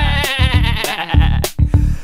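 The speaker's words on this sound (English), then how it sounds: "All you need is a sheep." A sheep bleats loudly and close by, giving several quick wavering calls in a row over about two seconds, with no speech.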